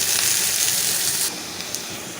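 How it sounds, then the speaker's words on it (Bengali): Onions fry in oil in a pan for hilsa fish curry, making a steady, close hiss of sizzling that eases slightly partway through, with a faint stir or clink near the end. "তো প্রায় আমরা এখানে পেঁয়াজটা আমি একটু ভেজে নিব"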